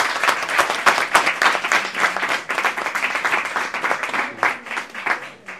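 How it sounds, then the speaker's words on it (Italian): Loud, close audience applause for a woman at an event on violence against women, with crisp individual hand claps rippling densely and unevenly from start to finish, no voices over it. "facciamogli un applauso"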